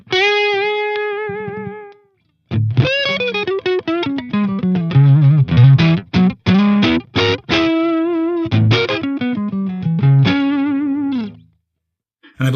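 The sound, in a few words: electric guitar through Friedman IR-D pedal, edge-of-breakup tone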